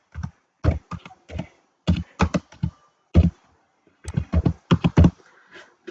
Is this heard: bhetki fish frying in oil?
no